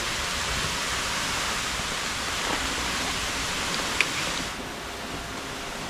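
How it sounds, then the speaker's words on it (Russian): A waterfall on a mountain hike in Japan gives off a steady, dense roar of rushing water. It continues unbroken, loud and close, with no voices. "Человек заряжается энергией у водопада."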